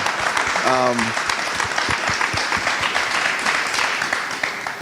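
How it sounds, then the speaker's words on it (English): A conference audience gives panelists a warm, continuous round of clapping; a voice briefly speaks over the start, then the applause carries on evenly to the end. "do want to give these panelists a round of applause"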